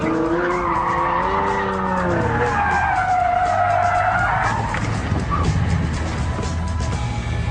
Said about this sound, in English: I have to go fast, round a corner, to prove it.